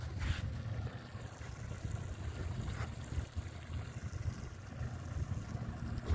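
An Xpress XP18CC boat's motor runs with a low, steady engine drone under splashing, rushing water. The noise is continuous and fairly loud throughout, with no voices.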